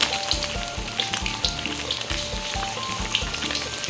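Chicken marinated in fish sauce fries in plenty of hot oil, a loud, dense sizzle with rapid crackling pops running continuously and close up.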